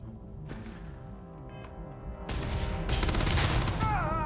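The Tesla Grendel weapon fires in Starfield, a rapid burst of crackling, zapping shots that erupts after a quieter stretch of game music and hum, loud and close, with electronic warbling near the end.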